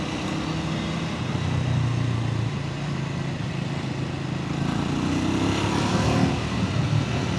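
A Triumph Scrambler 400X motorcycle is being ridden, giving a continuous engine drone mixed with strong wind rush. The roar holds steady for several seconds, full and close, without distinct gear changes.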